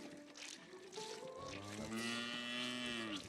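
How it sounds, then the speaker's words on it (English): A cow in the video game New World: Aeternum gives a drawn-out, wavering moo of about two seconds, heard alone and fairly close over quiet ambient background. "there's also this cow that you can collect milk from"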